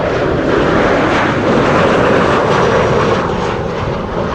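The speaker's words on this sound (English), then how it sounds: "This is Helvetic, flight 730, arriving from Zurich, that you heard pass by and saw." A loud Helvetic airliner on flight 730 from Zurich roars steadily overhead on arrival at Amsterdam Schiphol in windy weather, with a broad, continuous engine rumble that stays strong throughout, with no voices.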